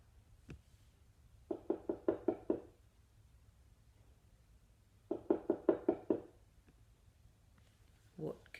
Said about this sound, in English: I think it sounded like tapping